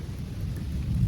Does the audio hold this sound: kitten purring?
no